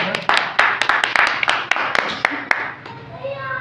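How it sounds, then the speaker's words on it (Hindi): Scattered audience clapping at a Hindi poetry gathering, a handful of sharp, uneven claps close by that thin out toward the end, with a few voices murmuring in the background. "मैं उनका हौसला अफजाई के लिए आप सभी से तालियों के लिए आग्रह करूंगा।"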